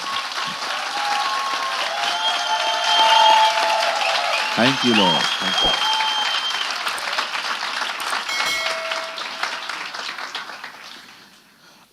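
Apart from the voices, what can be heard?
congregation clapping for Jesus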